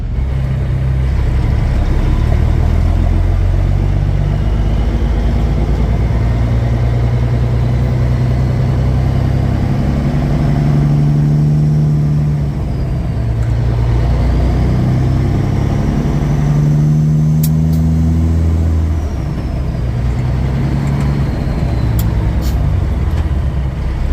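A truck engine running loud and close, its drone rising and falling through several revs as a gear is missed and the shift fumbled, with a steady rumble throughout.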